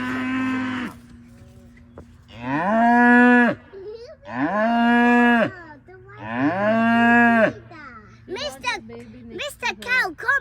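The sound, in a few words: cow mooing on a farm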